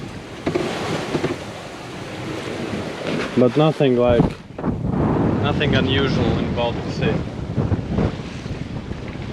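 Wind buffets the microphone aboard a sailboat on the Baltic Sea, gusting in uneven rushes and blasts while someone talks over it.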